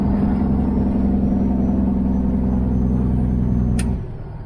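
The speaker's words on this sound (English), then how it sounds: "I just wanted to let you guys hear some of the sounds of this truck as we roll on" A new semi truck rolling down the road, heard from inside the cab as a loud, steady low engine drone and road rumble that drops off sharply near the end, with a brief high whine.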